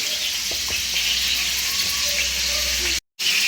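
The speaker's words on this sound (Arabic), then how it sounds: "نحطو الدجاج يتحمر" Chicken frying in oil in a pan, a steady close hiss and crackle of sizzling that runs without a break apart from one brief cut near the end.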